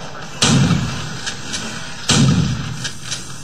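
Heavy gunfire from a Doom 3 mod first-person shooter game, two booming shots about a second and a half apart, each with a deep thump and trailing rumble, plus fainter clicks between.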